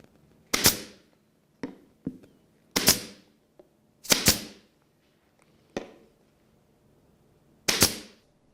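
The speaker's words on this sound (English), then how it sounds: "I've got a pin nailer with 3/4 inch pin nails, and I'm going to shoot a few of them" A pin nailer fires 3/4 inch pin nails into trim of a cherry wall cabinet, sharp close snaps in an irregular series with brief pauses between shots, some louder and some fainter.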